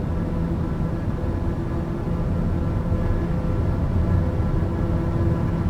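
Steady, loud drone of a TBM 850 single-engine turboprop in a flight simulator, heard from the cockpit on an Alaskan coastal flight, a continuous broadband roar with a faint whine and no talking.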